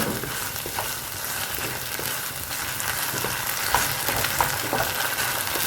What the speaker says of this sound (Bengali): পুরোটা একটু ভালো করে কষিয়ে নিচ্ছি